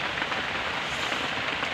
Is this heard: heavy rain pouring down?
yes